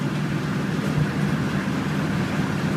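1999 Ford E-250 long-wheelbase cargo van driving down the road, a steady low engine and tire rumble with broadband road noise, heard from inside at an even level throughout, with no talk.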